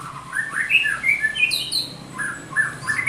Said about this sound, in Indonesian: Kalau saya nempelnya pakai konin ya. Itu koninnya juga lumayan gacor.